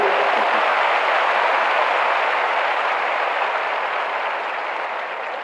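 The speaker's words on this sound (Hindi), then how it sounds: "ताली बजाइए, हंसिए।" A crowd applauds at a ceremony appointing new police personnel, with thick, continuous clapping from many hands that holds steady and eases slightly toward the end, and no voices standing out.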